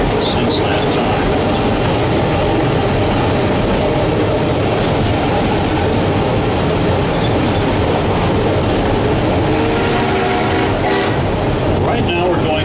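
Loud, continuous rumble of a Georgetown Loop Railroad train rolling along the track between Silver Plume and Georgetown on a curve, with steady rattling and clatter of the cars throughout and faint voices beneath.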